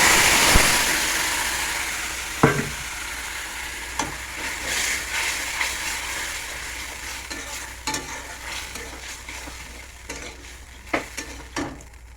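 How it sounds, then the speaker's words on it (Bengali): Potato, onion and chili curry is poured into a hot pan and stirred, giving a steady sizzle and frying hiss with occasional clinks and scrapes of the spoon. "এবার তরকারিটা ঢেলে দেবো।"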